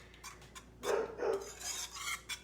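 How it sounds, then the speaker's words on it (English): A dog barks indoors with a few short, fairly faint barks close together and no one talking over them. "I hope y'all don't mind dogs barking because it happens every time"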